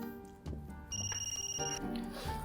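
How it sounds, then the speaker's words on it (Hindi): A phone rings with a steady electronic ringtone, repeated pulsing tones at moderate volume indoors, with faint background noise and no clear speech over it. "मम्मा का फोन आ रहा है, चुपचाप बैठो।"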